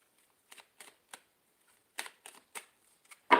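Tarot cards shuffled by hand in a quiet room: a sparse run of short, soft riffling bursts, ending in a louder, fuller shuffle. No talking.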